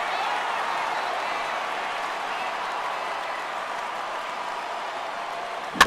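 A large MLB 14 The Show stadium crowd of over 39,000 cheering in the ninth inning, a steady broad roar holding throughout and ending in a brief sharp crack.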